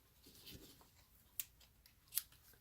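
Scissors trimming paper while making a stair step Easter card, two short crisp snips standing out from a quiet background, close to the microphone with no talking.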